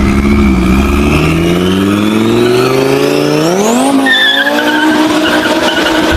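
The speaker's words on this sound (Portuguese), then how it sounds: "Por isso que carro turbo tem aquele som tão característico. É literalmente o som do ar sendo comprimido em altíssima velocidade." A turbocharged car engine revs hard and loud, its pitch climbing steadily before dropping sharply at about four seconds, then continuing with a high whistling whine, alone and close.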